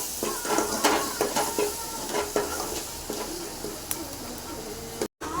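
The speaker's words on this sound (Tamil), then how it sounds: "இஞ்சி பூண்டு போட்டு இப்போ நம்ம வந்து வதக்கிறோம்" Ginger garlic paste sautéing in a pan for beef curry, a continuous close sizzle with frequent scraping and stirring strokes of a spatula against the metal.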